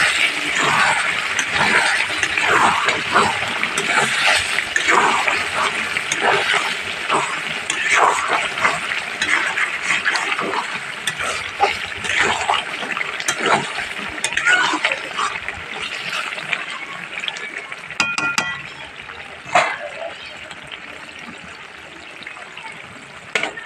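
Duck meat curry being stirred in a pot, with a continuous wet bubbling and sloshing and intermittent scraping of a spoon against the pot.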